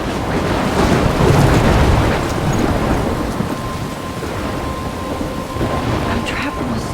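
A thunderstorm from the video game Life is Strange: heavy, loud rain roars steadily throughout, with deep thunder rumbling under it, peaking early and then settling into a dense, continuous downpour with no voices.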